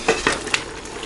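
Beef and curry powder stirred and fried in a pot, giving a few short scraping clatters and a light sizzle, close and fairly quiet, with no talking.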